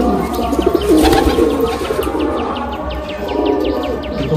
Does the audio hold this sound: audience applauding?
no